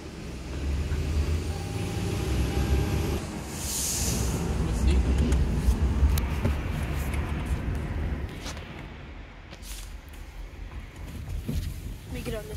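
A gray COTA city bus rumbles past on the street with heavy low engine noise, a brief hiss like an air brake, and the bus slowly fading off, while people talk nearby.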